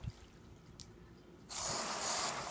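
Water streams across a car's painted panel sealed with Turtle Wax ICE Shine Lock sealant, starting as faint drips and then a sudden steady rushing spray that sheets off the surface, close and fairly loud.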